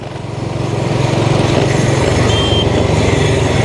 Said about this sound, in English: The truck in front of us is kicking up dust.